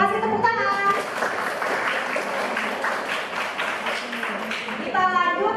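Classroom students give a burst of applause, dense continuous clapping for several seconds, with a teacher's voice heard briefly before and after.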